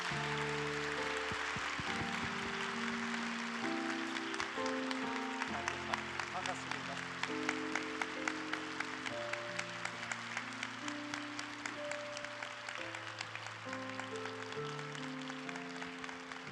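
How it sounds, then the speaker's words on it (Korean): A church congregation applauds in welcome during a Sunday service, a dense and continuous roomful of clapping heard over organ or keyboard chords that play throughout. "우리 올라오시는 선생님께 환영의 박수 부탁드리겠습니다."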